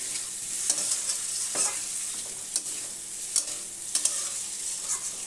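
A spoon stirs spiced potatoes with a pinch of Kashmiri chili powder in a hot pan, with close scraping strokes and sharp clicks over a soft, steady sizzle and no voices.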